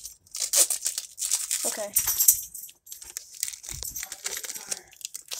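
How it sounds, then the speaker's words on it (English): A Pokémon Trick or Trade Halloween card pack is torn and crinkled open in short bursts of foil rustling, close and fairly loud, with a brief spoken word between. "Okay, I gotta open it just a little bit more."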